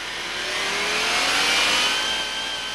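A car engine fitted with Bosch KE-Jetronic fuel injection holds a steady high rev around 4,000 rpm during servicing, a loud, continuous whine rising slightly and easing off, with no talk.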